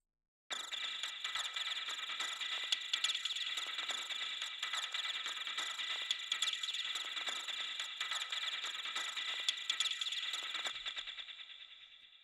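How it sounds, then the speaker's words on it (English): Retro sound-effect sample of crickets for a classic horror atmosphere: a dense, steady, high-pitched chirring that holds evenly for about ten seconds before thinning and fading away, with no voices. "Originally, this sample is crickets, I guess, like a classic horror atmosphere sample."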